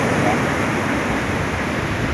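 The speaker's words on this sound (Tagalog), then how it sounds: "Malaking alon guys." Big sea waves surge onto the shore in stormy weather, a continuous loud broadband wash of surf and wind with no clear breaks.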